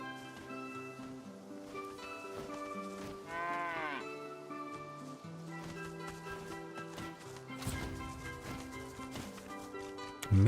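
Cattle lowing in the fantasy RPG Divinity: Original Sin 2, a single drawn-out moo rising over a quiet game soundscape of soft tones, with a few faint hoof-like clops later.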